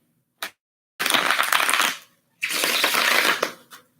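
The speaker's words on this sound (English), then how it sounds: "because I like to riffle shuffle, especially Pagan Otherworlds" A Pagan Otherworlds tarot deck being riffle shuffled, with two long crisp fluttering bursts of cards rippling together, each ending in a soft tap, plus brief handling clicks before and after, close and clear with no talk.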